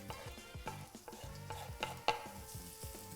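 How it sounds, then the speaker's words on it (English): Onions frying in olive oil in a hot pan make a soft crackling sizzle, with repeated knocks and scrapes of stirring against the pan. The sound is fairly quiet overall. "In with the onions."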